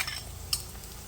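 Ginger and garlic sizzle softly in a pan as they are stirred for a homemade rambutan pickle, a quiet frying hiss with one light scrape of the spoon, close and without talking.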